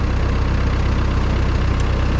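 A Ford 9N tractor engine idles steadily up close, a loud, continuous low rumble with an even, rapid pulsing and no pauses throughout.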